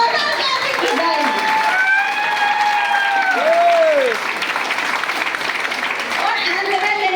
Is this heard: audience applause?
yes